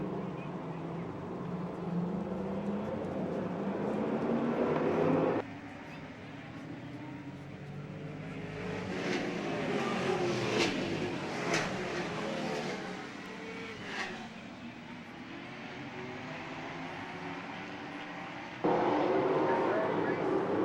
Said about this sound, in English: Late models are testing and tuning. They're warming up their tires.